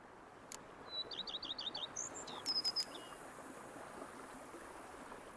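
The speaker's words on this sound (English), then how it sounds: "Bees buzzing, birds chirping." Birds in The Witcher 3: Wild Hunt, Blood and Wine, chirp in quick short bursts, a rapid series of clear tweets followed by a few brighter calls, faint and somewhat distant over a soft ambient bed.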